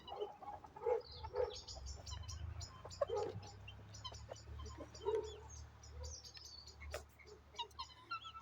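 Chickens cluck in short bursts close by, with scattered sharper calls over a low steady background rumble.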